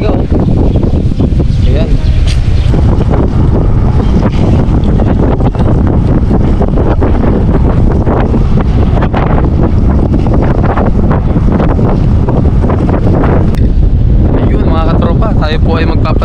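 Strong sea wind buffets the microphone without a break on a boat out on the water, a heavy roaring rumble with the wash of waves beneath it, while someone speaks briefly over it.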